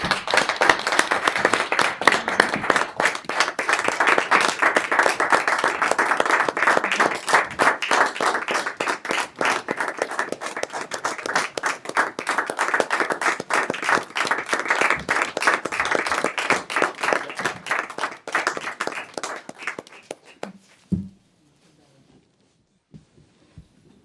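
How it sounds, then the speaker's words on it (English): A round of applause for Emily at a school committee meeting, a steady crowd of clapping hands going for about twenty seconds before it stops abruptly. A couple of faint noises follow in the near-silence afterward. "So if we could have a round of applause for Emily."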